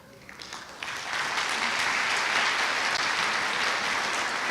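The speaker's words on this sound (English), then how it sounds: "please give them the applause that they deserve" Audience applause for a school board's president and members at a 2014 learning center graduation ceremony, a dense, steady wash of many hands clapping that swells after a brief quieter start and holds loud to the end.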